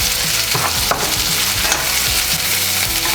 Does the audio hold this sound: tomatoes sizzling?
yes